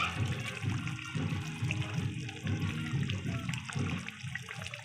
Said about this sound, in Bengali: এবার আমি জল দিয়ে দেবো বেশি জল দেবো না